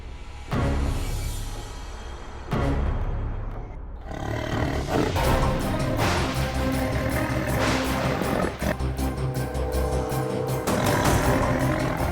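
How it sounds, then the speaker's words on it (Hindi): A tiger roars loudly and close in a Hindi TV serial scene, a series of deep, rumbling roars broken by short pauses, each burst heavy and resonant, with no talk over it. "भैया, अभी बाघ की आवाज आई ना?"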